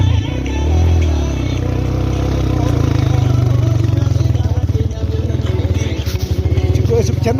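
Motorcycle engine on rough mountain roads in Upper Dolpa, a loud, close, steady low rumble with a pulsing throb that holds for the whole stretch, a voice faintly in the background.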